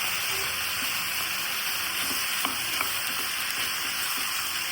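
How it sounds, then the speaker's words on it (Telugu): Tomatoes and mint leaves cook in a pan with a steady, soft sizzle and hiss, a few faint stirring clicks and pops scattered through the constant frying noise. "టమాటాతో పాటు ఆకు కూడా ఉడికిపోతుంది"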